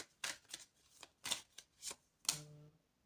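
Tarot cards shuffled by hand: a handful of distinct, close riffling bursts in a loose rhythm, about five or six swishes, ending with a brief faint tonal hum and no voices.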